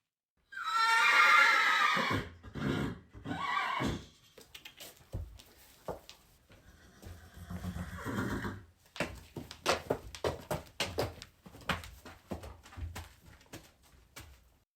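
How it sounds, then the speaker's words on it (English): A horse in a stable in Jericho, Vermont, lets out a loud, close whinny at the start, followed by snorts, shorter calls and shuffling, hoof and stall noises that patter on throughout. "we did want to bring you into a stable and let a horse speak for itself."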